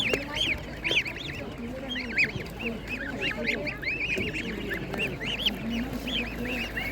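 Geese at an outdoor animal market honk and cackle continuously in overlapping calls, near and loud, mixed with other fowl clucking and faint voices in the background.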